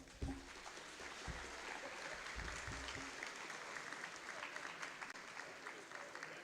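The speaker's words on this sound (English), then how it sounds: "Please give them a big round of applause." A crowd claps steadily for several seconds at a high school awards evening, the applause sounding soft and somewhat distant.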